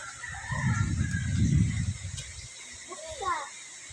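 Ducks quacking and honking nearby amid background voices, a few calls rising near the end.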